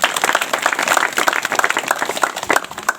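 Audience at a community gathering clapping, a busy patter of many hands at moderate level throughout the short stretch.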